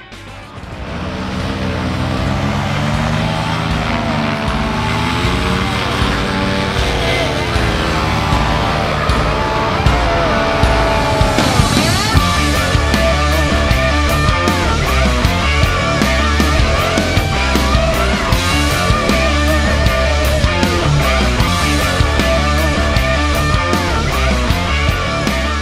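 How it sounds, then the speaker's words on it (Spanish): A Vittorazi Monster paramotor engine holds a steady idle. Its drone is continuous and loud with a shifting tone at first, then settles into a rapid, even pulsing beat. "el motor continúa estable en todas las posiciones"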